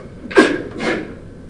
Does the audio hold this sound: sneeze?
yes